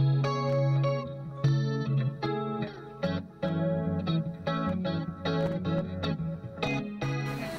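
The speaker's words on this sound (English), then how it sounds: "I have a lot of echo units." An electric guitar is played through a bank of echo and effects units in a solo stage performance, with ringing chords and plucked notes smeared by chorus, distortion and repeating echoes, loud and continuous with no voices.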